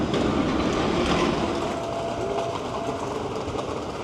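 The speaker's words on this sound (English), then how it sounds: "They do have lots of trams and light rail and convenient transportation if you don't feel like hoofing it all the time." A tram or light rail car rolls past on a city street in Bordeaux, France, a loud close rumble with rattling wheels and a faint squeal that eases slightly as it moves on.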